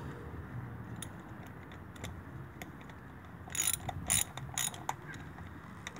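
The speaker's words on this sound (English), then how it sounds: "So I'll tighten these." Ratcheting wrench tightening bolts on a Warn locking hub installation on a 2000 Nissan Xterra, giving soft mechanical clicks with a louder cluster of metallic ratchet strokes near the end, close by and without talk.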